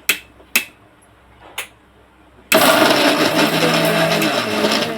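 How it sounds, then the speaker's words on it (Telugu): Mixer grinder whirring loudly as it grinds fried onion and two green chilies, starting abruptly after a few sharp taps and running steadily at close range with no talk. "వేపుకొని మిక్సీలో వేసేసుకున్నాం ఉల్లిపాయ రెండు పచ్చిమిరకాయలండి పెద్ద ఉల్లిపాయ మిక్సీ వేసుకున్నాం"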